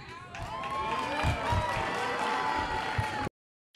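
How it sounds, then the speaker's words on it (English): A crowd cheers and claps in a steady, excited roar that fills most of the stretch, with a few thumps under it, then cuts off abruptly near the end. "It's like everybody's cheering."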